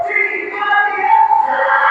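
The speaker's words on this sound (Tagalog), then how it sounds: "Sigawan, no?" A large crowd shouting and cheering at Rizal Stadium, a continuous loud roar of many voices that swells slightly toward the end, distant and dense with no single voice standing out.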